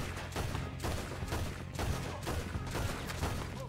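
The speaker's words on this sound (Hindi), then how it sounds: "हर तरफ से गोलियां चल रही हैं, मतलब तीनों साइड से गोलियां चल रही हैं" Gunfire during a bank raid shootout in Red Dead Redemption 2, rapid overlapping bursts of shots from several directions, steady and fairly loud with no talk.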